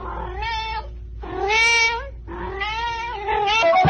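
A cat gives three drawn-out, whiny meows in a row, loud and close, with short gaps between them and no one talking.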